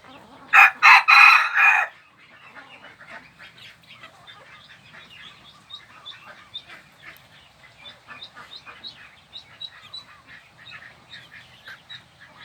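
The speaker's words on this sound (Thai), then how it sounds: "ไว้เพื่อฟังเสียงขันครับเป็นความสุขยามเช้าอย่างหนึ่ง" A Japanese bantam rooster gives one loud, close crow in the morning, lasting about two seconds. Softer chirping and clucking from other birds continue in the background afterward.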